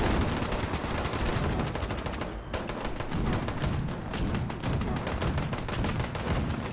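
Machine gun turrets in a first-person PC game fire in a dense, continuous stream of rapid automatic bursts, loud and close, with no break across the whole stretch.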